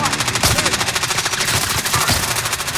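Rapid automatic gunfire in the video game Warzone, a loud continuous stream of shots with a few heavier bursts, over faint voices.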